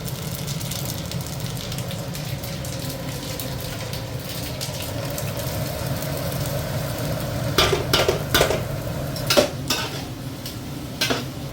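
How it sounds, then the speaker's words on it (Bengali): Cumin seeds and onions sizzle in hot oil for a desi mutton dish, a steady close frying hiss with low rumbling underneath, punctuated near the end by several sharp clinks of a utensil against the pan. "তাই জন্য জিরেটা এখন ফোড়ন যাচ্ছে"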